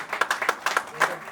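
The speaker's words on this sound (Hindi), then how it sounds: "तो जोरदार तालियां होनी चाहिए।" Scattered clapping at a poetry gathering, a handful of sharp uneven claps that come in quick irregular bursts, close and fairly loud, with no clear speech over them.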